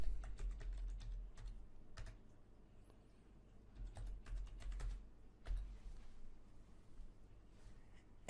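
Password being typed on a computer keyboard during a system login, a sparse run of quiet, close key clicks in short irregular bursts with brief pauses between.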